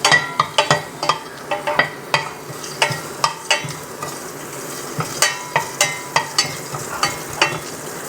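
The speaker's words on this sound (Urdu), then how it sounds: "یہ زیرے کو ہم تھوڑا سا بھون لیں گے." Cumin seeds fry in hot oil with a continuous sizzle while a spoon stirs them in the pan, making repeated close scraping clinks in a steady rhythm.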